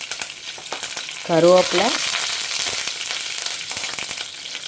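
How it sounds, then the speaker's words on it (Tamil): Mustard seeds and fenugreek crackle and sizzle steadily in hot oil, a busy close spatter of tiny pops, with a brief spoken word early on. "நான் கடுகு வெந்தயத்தை போட்டுக்கிறேன். பொரியட்டும்."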